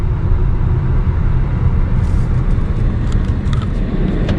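A 2023 electric Nissan Ariya takes a tight corner at 45, heard from inside the cabin as a loud, constant low road and tyre rumble with light clicks and ticks toward the end, and no motor roar.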